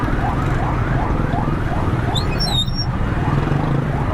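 A police car siren wails repeatedly from a vehicle stuck in traffic, a loud rising-and-falling tone over the steady rumble of engines on a busy street.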